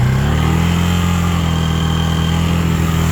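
A Suzuki Djebel 200 motorcycle engine idling loudly and steadily up close, the pitch settling just after it catches.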